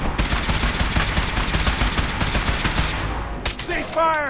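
Rapid automatic gunfire in a fight in the game Fallout 4, a loud, dense rattling stream of shots for about three seconds, then a single burst and a brief ringing tail.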